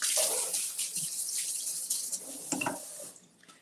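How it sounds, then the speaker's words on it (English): A cucumber is rinsed under a running kitchen tap, a close, steady hiss of flowing water with light splashing as it hits the vegetable, tapering off near the end. "let me just give this a quick little rinse."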